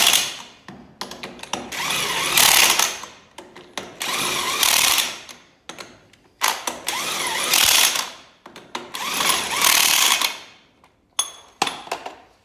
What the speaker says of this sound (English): get your impact wrench or your manual wrench, tighten them up